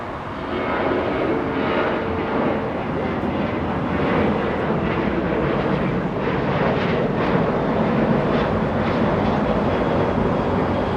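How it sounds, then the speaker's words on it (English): French Bee Airbus A350 taxiing and turning onto a taxiway at Los Angeles International Airport, a steady, moderately loud engine whine and rumble that holds evenly throughout. "French B making the left turn on taxiway Lima"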